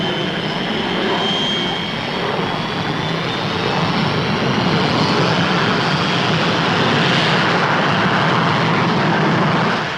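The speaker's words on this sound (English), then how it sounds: "The Delta II is yet another research aircraft probing into the future." The Delta II supersonic research aircraft with exceptionally thin wings makes a flying demonstration: a loud, continuous jet roar with a slowly shifting whine as it passes, steady throughout with no talk.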